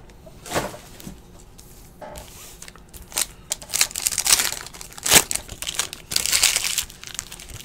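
A 2017-18 Ascension basketball card box has its plastic wrapping torn open, with close, loud crinkling and ripping in uneven bursts and short pauses between them.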